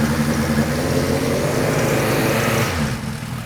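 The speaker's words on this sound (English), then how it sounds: "This one's got a Yoshimura exhaust, so it's going to be a little louder than what you just heard over on Daniel's" A motorcycle fitted with a Yoshimura exhaust idles steadily and close by, a low, even burble that holds for about three seconds before easing slightly at the end.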